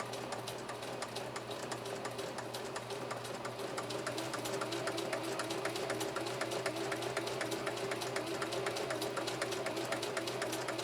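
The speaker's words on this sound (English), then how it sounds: "we are sewing with a Schmetz 9014 universal needle" A Singer Heavy-Duty 4423 sewing machine stitches slowly with a Schmetz 9014 universal needle, its steady rapid needle ticks and motor hum running evenly and close throughout without any talk.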